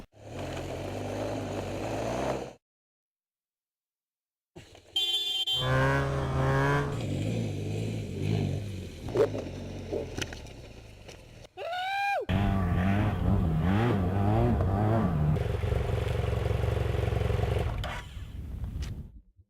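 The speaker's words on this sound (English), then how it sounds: "I'm riding the LA to Barstow to Vegas dual sport ride" A dual sport motorcycle rides through the desert on the 2009 LA to Barstow to Vegas ride. The engine drones and revs loudly, drops out into a brief silence, then returns with shifting pitch, wind noise and acceleration.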